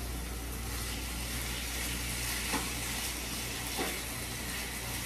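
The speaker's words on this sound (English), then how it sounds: "Then I'm going to stir it around a little bit." Food being stirred on a hibachi-style griddle at home gives a steady, broad sizzle that runs throughout, with a couple of faint scraping touches near the end and no talking.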